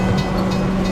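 A train passes at night, heard from inside a moving Mitsubishi Outlander. A loud, brief rumble of rail noise carries a steady low hum, with no voices over it.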